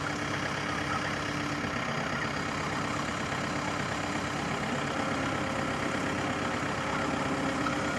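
A tractor engine idles steadily at a turkey pasture farm before the pens are moved to fresh grass, a continuous low rumble holding at an even level throughout with no talk.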